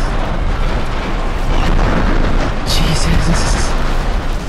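A huge, rumbling explosion from a destroyed target in Just Cause 3, a loud continuous roar of blast and debris with a person briefly exclaiming over it.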